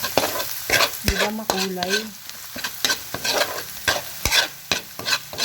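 Veggie fried rice stir-fried in oil and butter: a steady sizzle with repeated scraping strokes of a spatula against the pan, close and loud, while a voice speaks briefly.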